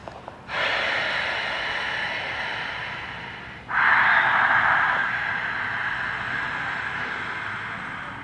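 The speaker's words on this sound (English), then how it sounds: "So that sound has to come when you're breathing" Two long, forceful breaths taken during a breathing exercise, each starting abruptly as a loud rushing airflow and trailing off slowly, the second louder and slightly hoarse, close to the microphone.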